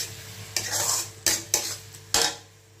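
About a dozen large garlic cloves fry until reddish in a pan as a utensil stirs them, four distinct scraping strokes cutting across a soft, steady sizzle.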